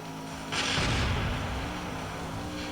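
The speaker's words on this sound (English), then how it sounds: "I'm liking this game more as we go through because there's more explosions" A single explosion in the Monster Trucks Nitro video game, a muffled booming burst that swells quickly and rolls off over a second or two beneath a steady engine drone.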